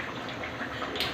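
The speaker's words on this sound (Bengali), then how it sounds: "বাটিটা ধুয়ে একটু জল দিয়ে দেবো।" Water from a rinsed bowl poured into a simmering fish curry with cumin and coriander paste, a soft, steady watery trickle and splash, quiet and close, with a brief brighter splash near the end.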